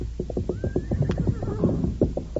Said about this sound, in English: Bring the other horse along, Tonto.